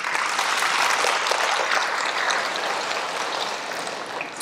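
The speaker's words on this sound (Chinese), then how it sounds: "来，我们大家为这件事鼓掌一下" Sustained audience applause at a spiritual talk, a dense, even wash of many hands clapping that holds steady at close range for the whole stretch, with no voices breaking through.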